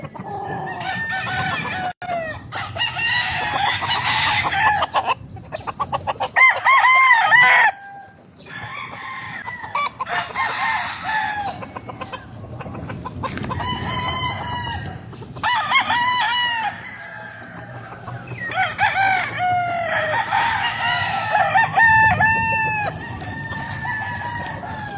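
Many gamecock roosters crow repeatedly over steady clucking from a flock of early bird fowl, loud and close and overlapping throughout with no talk.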